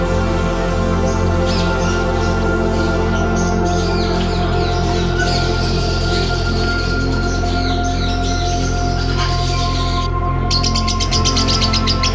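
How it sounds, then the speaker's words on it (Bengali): Birds in a parrot aviary at Gazipur Safari Park chirp and tweet in a dense, continuous chorus of overlapping calls over a steady low hum, loud and close throughout. "এখানে পাখিগুলো"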